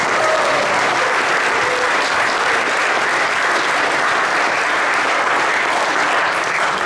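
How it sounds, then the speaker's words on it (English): Sustained applause from an audience at a school jazz band concert in a hall, dense steady clapping throughout, loud and even with no pauses. "So I'll give them another round of applause."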